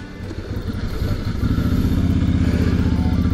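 A Ducati Hypermotard 1100S motorcycle pulls away, its engine rising into a loud, steady throbbing rumble close by with some clatter as it gets going.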